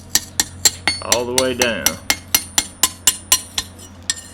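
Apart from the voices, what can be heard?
hammer tapping out the edge of a forged knife blade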